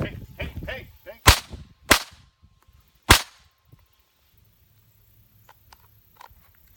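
Sharp, loud gunshots with ricochet from a game, three cracking reports about a second apart following earlier shouting, then near silence with faint clicks as the weapon is switched to a secondary gun.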